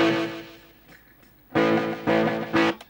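Studio band recording from a session, with live electric guitar carrying a short slapback echo; quiet room bounce at first, then loud full-band bursts with sustained harmonic tones toward the end.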